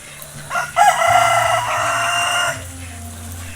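A farm hen gives a drawn-out, loud call with a few clucking notes, close by, against a low background hum.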